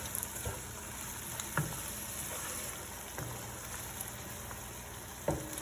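Garlic and ingredients for Nigerian vegetable soup with goat meat fry in a pot with a steady, faint hiss. A few soft clinks and stirring knocks stand out now and then.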